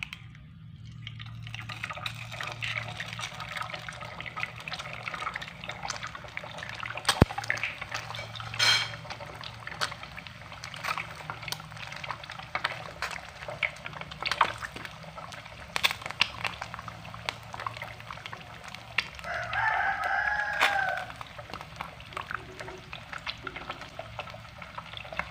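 Eggs frying in a pan for a stir-fried sunny-side-up egg dish, a steady soft crackle and sizzle running throughout with a few louder spits and pops, close by and with no talking.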